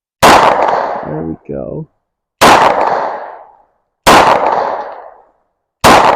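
A Taurus 709 Slim pistol fires at a target: four loud, sharp shots spaced a second or two apart, each with a short echoing tail, and someone speaks briefly between the first two.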